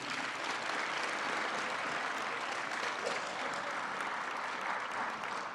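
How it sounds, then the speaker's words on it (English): A conference audience at a New Jersey community college student leadership summit applauds the All-State Academic Team, a dense, steady wash of many hands clapping that holds evenly from start to finish. "One more round of applause for our All-State Academic Team"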